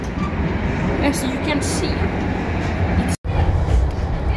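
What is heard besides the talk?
inside a moving train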